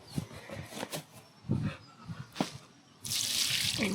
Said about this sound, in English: rinse it off a bit